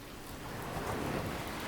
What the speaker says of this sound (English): with the ambient preset, we have sounds like light rain and heavy rain, and maybe the sound of waves as well